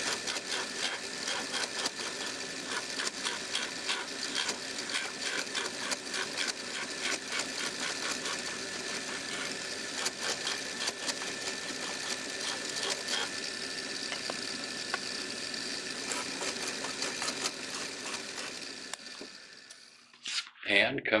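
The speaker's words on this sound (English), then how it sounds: "And now we're going to go to the drill press." A drill press bores holes through a wooden mandolin back set at the back's exact thickness, giving a continuous whirring machine drone that holds steady and then cuts off near the end.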